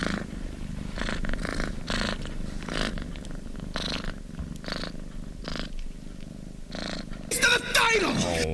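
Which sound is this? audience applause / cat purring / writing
cat purring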